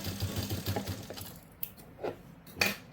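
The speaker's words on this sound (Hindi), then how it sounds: "इस तरह से आपको बाजू की सिलाई लगा लेनी है।" A sewing machine stitches the sleeve seam of a simple suit, a quick rhythmic mechanical chatter for the first second or so, then a few sharp clicks and light knocks as it stops.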